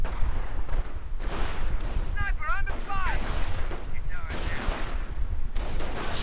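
Gunfire and artillery from a World War II strategy video game crackle in dense, continuous bursts, with small-arms fire and heavier blasts overlapping. A few chirping sound effects come through in the middle.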